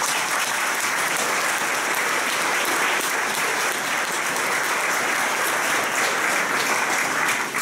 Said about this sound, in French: il entendra l'applaudissement